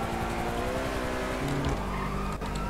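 Car engine in the video game GTA V, a steady loud motor drone with harmonic tones shifting in pitch, plus a brief tire-squeal-like burst near the end and no talking.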